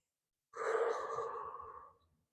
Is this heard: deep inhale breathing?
yes